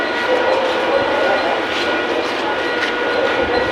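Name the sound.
local train running at night near Dahisar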